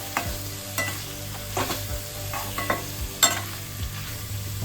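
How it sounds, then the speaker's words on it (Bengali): Boiled chicken pieces frying with spices, bay leaf and cinnamon for restaurant-style chicken bharta, a soft background sizzle broken by several sharp scraping stirs of a spatula against the pan at irregular intervals. "এদিকে চিকেনটা আমাদের মশলা সহ খুব ভালোভাবে কষানো হয়ে গেছে"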